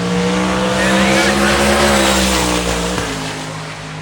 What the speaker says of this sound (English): Nick and David Deal's LS Swap Mustang left side. All eyes left side of the racetrack, see if they can get that run they need.